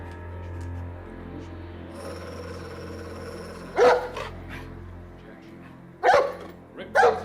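A dog barks a few times, loud and close, with gaps between barks over a low constant hum.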